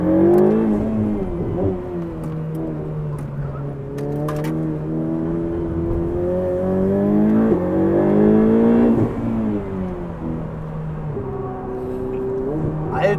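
Ferrari 488 Pista engine pulling hard while driving, its revs climbing and settling in smooth, steady waves at close range, with no talk over it.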